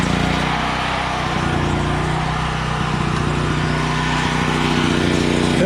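Old Power Pro portable generator running steadily nearby, a constant buzzing engine drone with no change in pitch or pace.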